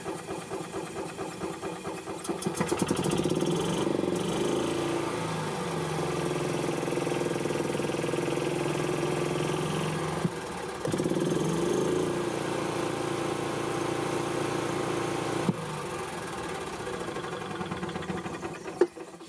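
A 2007 Club Car Precedent gas golf cart engine starts after a carburetor cleaning and idles with a steady, close, buzzing chug, with a brief dip in the middle and no talk over it.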